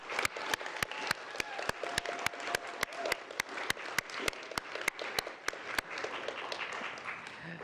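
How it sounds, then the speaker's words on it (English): Fairly quiet applause rises from the audience at an 8th grade graduation, with a crisp, evenly spaced clap beating out a steady rhythm over the softer crowd clapping. "Can we all take a second just to clap for these awesome kids up here?"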